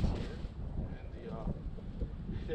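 Wind rushing over the microphone outdoors by a river at Red Bridge in Ludlow during a fishing outing, a steady close low rumble with gusty buffeting that swells and eases throughout.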